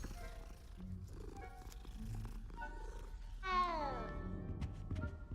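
A cat purrs and gives a drawn-out, rising meow in the Hogwarts Legacy video game, heard close and moderately loud over a soft, continuous game ambience.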